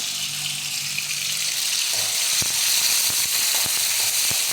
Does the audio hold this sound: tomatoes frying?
yes